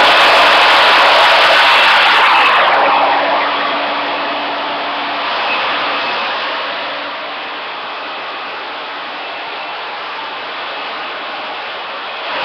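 A hair dryer blows steadily while hair is blow-dried, a loud continuous airy roar that drops slightly in level after a few seconds and holds on without pause.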